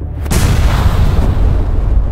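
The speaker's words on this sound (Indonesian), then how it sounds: "ledakan api membara meletup di lorong bawah tanah" A fiery explosion bursting through an underground tunnel: a sudden loud boom that swells into a sustained, roaring rumble with heavy low-end weight, filling the space without any voices.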